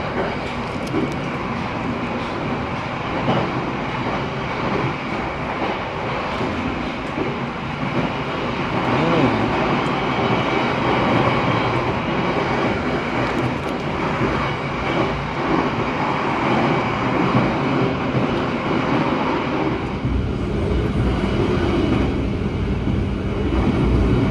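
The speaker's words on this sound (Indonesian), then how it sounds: "Ada kereta cuy" A train rolls past near the Sembrani line out of Jakarta, giving a continuous rumbling roar for the whole stretch that swells louder partway through and holds steady.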